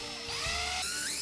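A power drill bores holes through a boat's hull or deck to mount stanchions, a steady close whine that rises in pitch partway through as the bit cuts in, with no talk.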